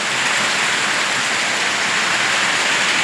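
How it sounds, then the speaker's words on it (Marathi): Steady rain pouring down without wind, a dense even hiss of drops on surfaces, loud and unbroken throughout with no voices. "पाऊस छान असा चालू आहे"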